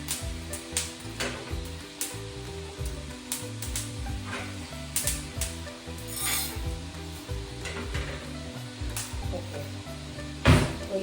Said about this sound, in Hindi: तो ये मैंने भून लिया है दोनों को।